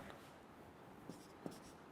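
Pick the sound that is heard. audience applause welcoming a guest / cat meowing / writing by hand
writing by hand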